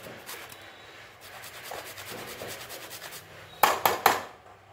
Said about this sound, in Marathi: आता इथे आवडीनुसार तुम्हाला जर जायफळ घालायचं असेल तर इथे जायफळ थोडंसं किसून घालायचं आहे।